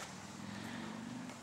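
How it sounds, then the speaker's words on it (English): Engine of a 1994 Chevrolet Suburban with a complete new exhaust, idling with a steady low rumble that stays even and moderately loud throughout the short moment. "Typical Chevy sound."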